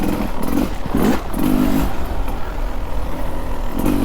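A Beta 300 RR or Xtrainer 300 dirt bike engine in third gear on a trail, holding a loud, close, steady drone with slight throttle swells and no talk over it.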